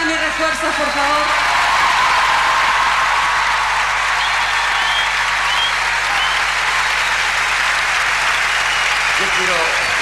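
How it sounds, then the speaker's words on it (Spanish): A packed concert audience at Luna Park gives loud, sustained applause, a continuous roar of clapping that holds steady for several seconds, with a voice speaking briefly over it at the start and again near the end. "Fuerte el aplauso para mis refuerzos,"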